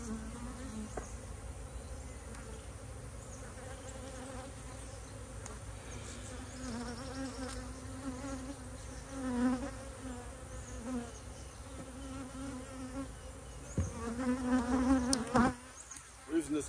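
Bees buzz steadily around a beehive in an apiary, a continuous near drone with individual insects swelling louder as they pass close, growing busier toward the end.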